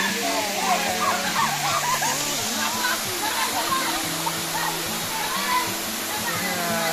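Bailan waterfall in Mambusao, Capiz, Philippines, a loud steady rushing roar of falling water that fills the whole scene, with people talking excitedly over it throughout.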